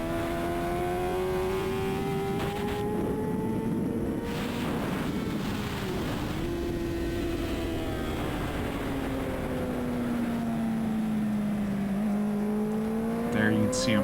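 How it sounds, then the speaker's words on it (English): A SuperStock 1000 superbike races at NOLA Motorsports Park, its engine screaming and dropping in pitch through downshifts while the rear wheel hops, heard loud and continuous from onboard with wind roar. "Still hear that rear hopping around on those downshifts."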